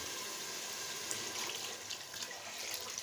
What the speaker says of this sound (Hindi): तो अब इसके अंदर पानी ऐड करेंगे